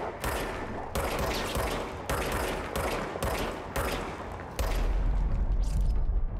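Bursts of automatic gunfire from the player's new regenerating-ammo weapon in the video game Control, several loud sustained volleys separated by brief gaps, ending in a heavier, denser stretch of shooting.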